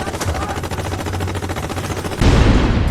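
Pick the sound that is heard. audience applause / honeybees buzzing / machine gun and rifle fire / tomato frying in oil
machine gun and rifle fire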